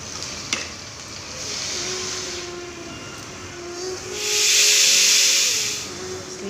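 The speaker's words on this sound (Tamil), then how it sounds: "ஆவி வந்து வெயிட் போட்டு 3 விசில் ஆஃப் பண்ணிடலாம்." A pressure cooker on a kitchen stove, cooking a Tamil vangi bath, lets off a loud, sustained steam hiss. A faint tone runs underneath, and the hiss swells louder toward the end.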